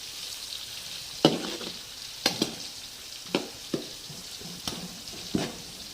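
Thinly chopped onion pieces fry in a pan for paper attukula chivda, a soft steady sizzle broken by several scraping stirs and light clatters of the spoon.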